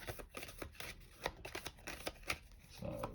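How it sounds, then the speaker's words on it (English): A deck of game cards is shuffled for a solo tabletop game, quick crisp riffling and flicking strokes in a steady rapid rhythm, close and fairly quiet, with no talking. "So I'll swap my deck around, get a bit of a shuffle"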